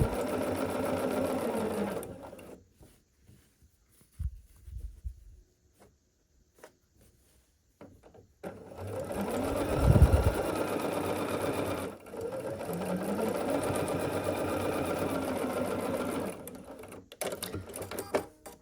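A sewing machine stitching scrappy half-square-triangle quilt blocks into pairs, running in two long steady bursts of rapid stitching separated by a quiet pause with small handling clicks, loud and close.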